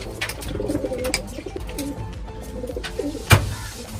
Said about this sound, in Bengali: এগুলো হচ্ছে নতুন বাচ্চা কবুতর